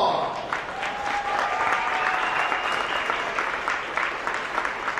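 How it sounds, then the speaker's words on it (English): A crowd applauds loudly and steadily for several seconds at a Unified bocce playoff event, dense clapping with a faint tone in the background. "Let's give all the teams a big round of applause."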